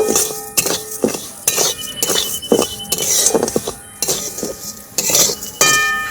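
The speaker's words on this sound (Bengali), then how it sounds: "এবার এই গোবিন্দভোগ চালটা দিয়ে ভেজে নেব।" Gobindobhog rice is stirred in a teaspoon of ghee in a wok, with a busy run of close metallic clinks and scrapes from a utensil against the pan and a faint sizzle underneath.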